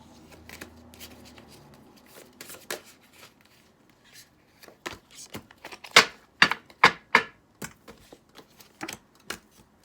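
Tarot cards shuffled by hand until a few flip out of the deck, with soft rustling that builds into a series of crisp, loud snapping riffles and taps close by; no talking.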